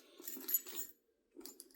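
Coins jingle and clink at the bottom of a fuchsia Dooney & Bourke Cameron purse, two short bursts of light metallic rattling close by, separated by a brief silence.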